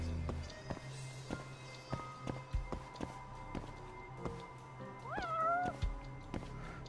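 A cat in the video game Judgment gives a couple of short rising meows partway through, set against soft game ambience and light footstep taps.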